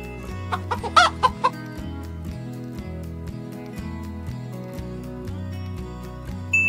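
A chicken clucks several times in short bursts over a rhythmic musical backing with a steady bass pattern.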